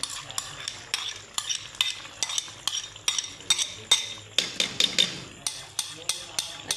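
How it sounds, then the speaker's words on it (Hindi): Cream is stirred into fried garlic-ginger paste with green chillies for a white chicken karahi, with sharp metallic spoon taps and scrapes against the pan in a steady rhythm over a soft sizzle, close and alone. "अब हम इसके अंदर क्रीम ऐड करेंगे"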